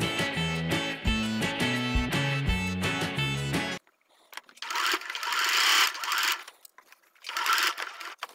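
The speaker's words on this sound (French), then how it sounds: "on va réaliser une couture tout autour" A sewing machine stitches around a small fabric pouch, its fast, even, rhythmic motor hum loud and close, followed by short bursts of fabric rustling and handling.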